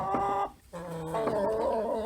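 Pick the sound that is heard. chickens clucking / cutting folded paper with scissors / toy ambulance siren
chickens clucking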